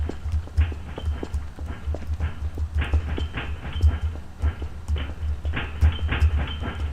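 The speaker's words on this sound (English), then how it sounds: "I hear their footsteps." Footsteps in Five Nights at Freddy's, a steady run of close, heavy thudding steps with a low rumble under them, continuing without pause for the whole stretch.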